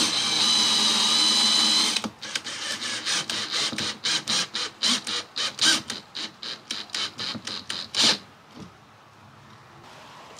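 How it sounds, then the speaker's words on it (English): A drill with a countersink bit whirs steadily, then deepens a countersunk hole in quick pulsed bursts, a loud, close buzzing stutter of roughly a dozen short runs before stopping. "we'll go a little bit deeper with the countersink."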